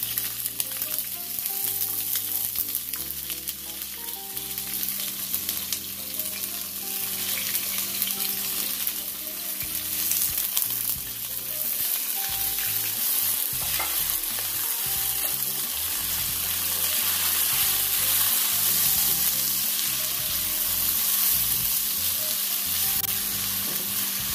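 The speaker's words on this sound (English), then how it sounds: "Add all my vegetables, and we're going to saute these." Mixed vegetables with green seasoning sauté in a hot pan ahead of coconut milk, giving a loud, unbroken sizzle and crackle that holds steady throughout, with occasional stirring, no talking.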